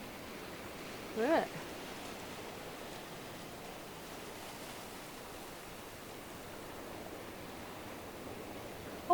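Ocean surf breaking at a South West Western Australia coastline makes a steady broadband wash throughout. A brief voice speaks over it near the start.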